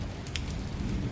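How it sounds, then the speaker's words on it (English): Rain drumming on a car roof, a dense, steady patter that stays at an even level through a short stretch with no voices. "Rain drummed relentlessly on the roof,"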